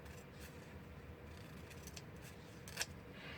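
Scissors cutting paper for a craft project, a few faint, quiet snips and rustles close by, with one brief sharper cut standing out.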